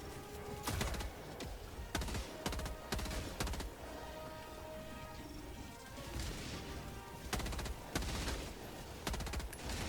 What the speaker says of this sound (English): I'm gonna drop a Gatling turret in there